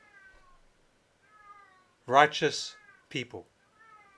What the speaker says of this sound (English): I don't know if you can hear my cat in the background singing.